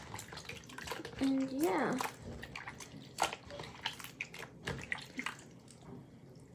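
Water runs and splashes as slime is rinsed and cleaned by hand, with dripping and sloshing throughout and a brief spoken word over it.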